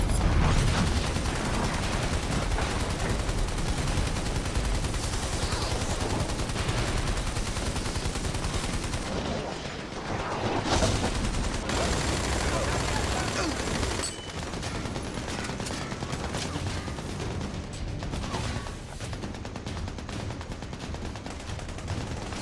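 Sustained machine gun fire in the video game Army of Two: The Devil's Cartel, a loud continuous rattling barrage that runs nearly unbroken across the stretch, dipping briefly before resuming, with little else audible beneath it.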